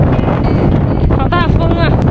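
Strong gusting wind on top of a small volcanic hill at Wulanhada volcano park, loud and buffeting against the microphone throughout, with people's voices and a dog's whining briefly heard under it.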